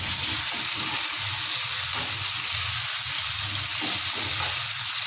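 Onions added to softened tomatoes sizzle steadily in hot oil for a Punjabi-style chappan kaddu sabzi, a continuous loud frying hiss with faint stirring, no voices.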